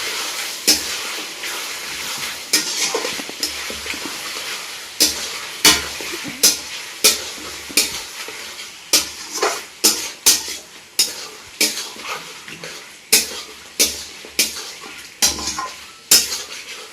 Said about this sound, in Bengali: এবারে কুচিয়ে রাখা টমেটোটা এর উপরে দিয়ে দিচ্ছি, দিয়ে ভালো করে এটাকে আবার মেখে নেব